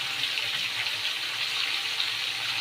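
Spinach leaves are washed under a running kitchen tap, a steady close hiss of flowing water splashing continuously without pause and with no talking.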